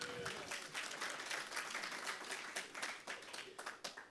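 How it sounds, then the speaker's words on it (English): Audience applause at a tech conference, dense clapping that holds steady and then thins out near the end, heard faint and at a distance. "I don't think I've ever been applauded for putting a sticker on something before"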